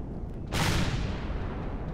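An incoming rocket explodes in the space game Empyrion, a single sudden blast that booms up and slowly rumbles away over a steady background drone.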